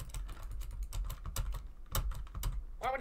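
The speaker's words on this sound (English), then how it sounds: "I can hear Emerald's keyboard." Rapid clicky computer keyboard typing from a player in a Minecraft Bed Wars match, a steady stream of sharp close keystrokes with a few louder clacks and a brief chirp near the end.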